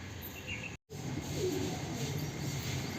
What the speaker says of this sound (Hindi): छत पे वो दोबाज कबूतर वापस आया और वहीं पे ही बैठा है